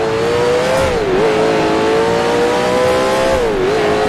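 A 1966 Can-Am race car sliding over a hilltop at Mont Tremblant in Grand Prix Legends, its engine holding a loud, steady drone with brief pitch dips as the car slides and catches, close and continuous with no talk.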